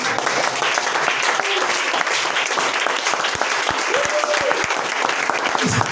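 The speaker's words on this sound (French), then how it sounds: "Donnez une acclamation au Seigneur" A church congregation breaks into loud, sustained applause close by, with dense clapping and a few scattered voices calling out underneath.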